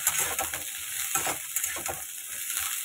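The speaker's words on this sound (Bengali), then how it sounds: "ভাজাগুলো ভালোভাবে করে নিচ্ছি" Pieces of bottle gourd fry in a pan, giving a steady close sizzle broken by scraping stirs, with no voices.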